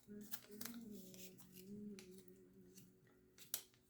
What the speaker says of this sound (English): Grab my ribbon scissors, and I'll trim that one when I put it down